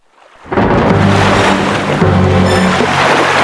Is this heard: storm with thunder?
yes